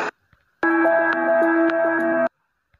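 Startup jingle of the Aviator betting game, a bright synthetic chime phrase of sustained tones with a few pulses, lasting under two seconds, alone and fairly clear.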